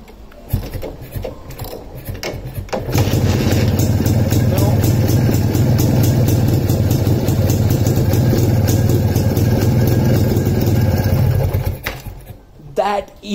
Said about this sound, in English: how this motorcycle can be started with your hands as well